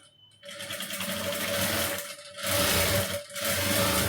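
A sewing machine stitches blouse fabric in a steady close-up hum lasting several seconds, with brief dips in speed and a short pause before it resumes.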